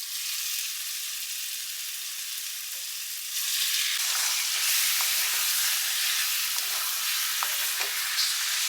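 Chicken and potato pieces fry in a pan with a steady loud sizzle, which swells midway as they are stirred, with occasional scraping clicks on top.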